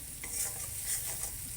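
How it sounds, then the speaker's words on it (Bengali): Ground coriander, cumin and other spices being stirred and fried in a pan for a fish curry, a close, steady sizzle with soft scraping strokes of the spoon and no talking. "সব রকম দিয়ে একটু নেড়ে নেব, কষিয়ে নেব"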